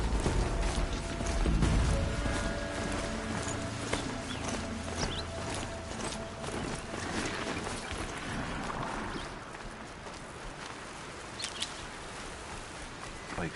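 A mechanical machine horse gallops in the Horizon Zero Dawn game, rhythmic metallic clopping and whirring clanks running steadily over a busy ambient backdrop, with a person's voice speaking over it at times.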